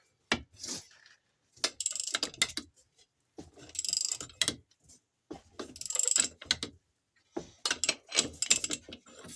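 A Yamaha Grizzly wheel stud being tightened with a leverage bar: bursts of ratcheting metallic clicks and grinding in short uneven runs separated by brief silences, close and fairly quiet.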